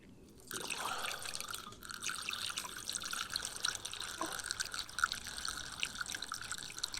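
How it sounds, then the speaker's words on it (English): Water circulates through the cooling loop of a MonPort 80 W CO2 laser engraver, a steady trickling, dripping flow that runs continuously and fairly close after a brief quiet start, with no talk over it. "So you can see the water circulating now, even though the actual laser itself is switched off."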